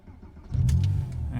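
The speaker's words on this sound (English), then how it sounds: "Sounds like sports exhaust fitted, although that's actually yet to be verified, but certainly sounds like it." A 2003 Porsche Boxster 2.7 (986) in Seal Grey, apparently with a sports exhaust, cranks and fires up about half a second in, then settles into a loud, close, deep idle.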